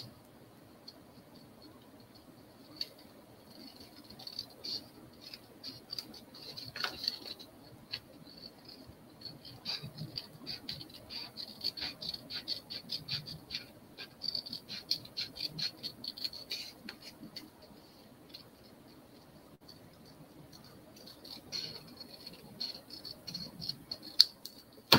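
Scissors trim around the edge of a handmade paper card, giving faint, irregular snipping and soft paper rustles close by in a quiet room, with no talking.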